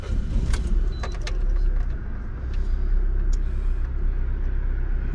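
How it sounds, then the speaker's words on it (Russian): Petrol car engine started and left running after switching from gas, a steady close low rumble and hum filling the clip with a few faint clicks and knocks on top. "Сейчас попробую завести, понимать, на бензине она работает или на газу"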